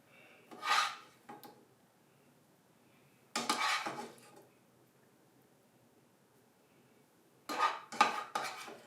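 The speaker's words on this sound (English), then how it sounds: "So I have the meat mixture, spreading it out thinly." Three short bursts of a spoon scraping and spreading a lasagna meat mixture across a pan, each lasting about a second, close and clear against near silence, with no voices.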